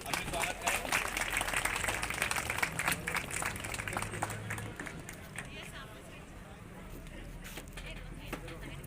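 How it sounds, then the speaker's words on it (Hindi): Audience clapping to welcome guests at a hospital inauguration ceremony on a highway in Biaora, steady crowd applause running throughout under a voice speaking over a loudspeaker, fading somewhat toward the end. "स्वागत करें, जोरदार तालियों से अभी स्वागत करें।"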